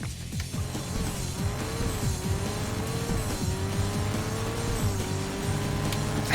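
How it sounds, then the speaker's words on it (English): A car engine in the arcade driving game Crazy Taxi gives a steady, loud buzzing drone with a wavering pitch that carries through the whole stretch, with no voices over it. "I hear the engine buzzing away."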